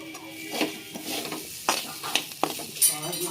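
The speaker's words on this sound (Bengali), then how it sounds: "দেখো আমার মশলা দিয়ে আলু ভাজা হয়ে গেল" Potatoes frying with spices in a wok being stirred, close scraping strokes and clinks of a utensil over a soft continuous sizzle.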